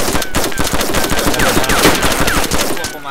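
Rapid automatic gunfire in a Thai online shooter game, a dense continuous burst of loud shots filling the whole stretch with steady rhythm and no talk.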